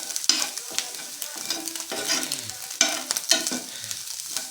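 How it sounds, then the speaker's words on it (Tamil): Sliced banana and egg fry in a pan, with a utensil repeatedly scraping and stirring through a steady, close sizzle in uneven bursts. "நம்ம எக்குமே வந்து நல்லா ஃப்ரை ஆயிடுச்சு."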